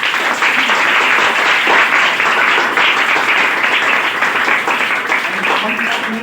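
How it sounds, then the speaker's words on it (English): Sustained applause fills a lecture hall as an audience claps steadily for a guest, a dense even patter that carries on throughout. "big clapping, Mr. Sandeep sir"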